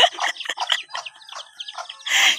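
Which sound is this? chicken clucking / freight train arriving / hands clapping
chicken clucking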